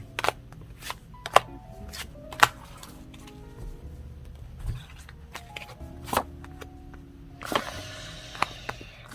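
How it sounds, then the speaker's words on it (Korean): Tarot cards are shuffled and drawn during a reading, producing soft, close riffling and sharp slapping taps that come in irregular bursts, with a denser flurry of shuffling near the end. "자, 그리고 두 분의 흐름 카드 하나만 더 뽑아보도록 할게요."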